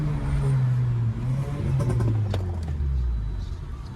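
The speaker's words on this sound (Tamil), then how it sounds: "நான் ஏன் இந்த விண்டோ ஓப்பன் பண்ணி வச்சிருக்கேன்னா உங்களுக்கு லைட்டா அந்த பாப்போட சவுண்ட் கேட்கணும்னு தான் கொடுத்து வச்சிருக்கேன்." A tuned car accelerates under load, heard from inside the cabin with a window open: a droning engine note rises and holds, with faint crackles in the background.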